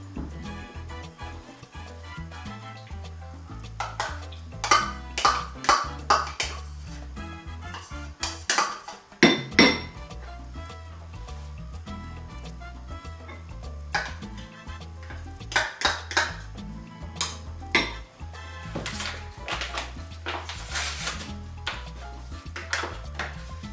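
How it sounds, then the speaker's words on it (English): Sour cream, mayonnaise and taco seasoning being mixed in a bowl for a Tex-Mex dip, heard as steady scraping and clinking of a utensil against the bowl in irregular bursts, close up with no talking. "So we've got our sour cream, mayonnaise, and taco seasoning, and we're going to mix these up real good here."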